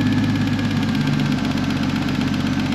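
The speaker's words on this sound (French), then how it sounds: "Tu vois qu'elle est en train de retrouver doucement son ralenti." A BMW E46 328i fitted with a turbocharged straight-six idles steadily close by, a low even rumble with a slight rhythmic pulse and no talk.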